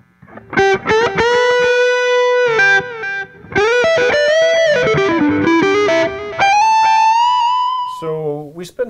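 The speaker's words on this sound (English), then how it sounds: "Let me try it with a distortion for a minute." Electric guitar played through distortion and a ping-pong delay effect with modulation on the tail, sustained singing notes and bends ringing out in phrases with repeating echoes, loud and alone.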